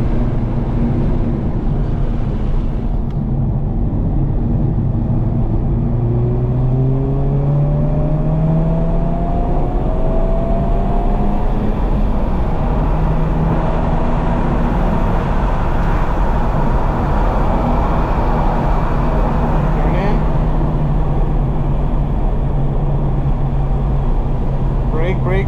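A race car on the Homestead Miami Speedway track, its loud engine droning steadily and sweeping up in pitch as it accelerates, heard from inside the car the whole time, with someone talking over it.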